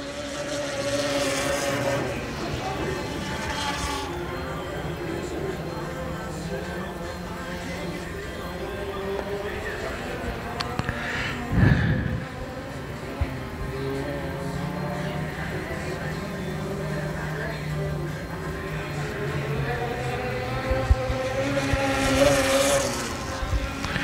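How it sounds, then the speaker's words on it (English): Open wheel modified race cars run practice laps at Dixie Speedway, their engines droning steadily and rising and falling as they pass, with wind buffeting the microphone and someone talking over the noise. "We'll get another chance to see the drivers going in the open wheel modified."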